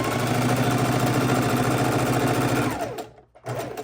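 A sewing machine runs steadily, stitching seams on a log cabin quilt block pieced from scraps, its rapid even whir continuing for a few seconds before stopping abruptly, then a brief final burst.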